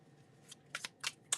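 Tarot cards being shuffled by hand give a soft, papery riffle with a few quick bursts of flicking and snapping, close and quiet, and no talking.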